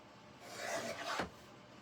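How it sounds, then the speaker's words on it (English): Paper for a handmade fun-fold card trimmed with a quick rasping slide of the cutter, one short scrape rising and ending in a sharp swish, close and fairly quiet. "so I'm going to take and trim that real quick."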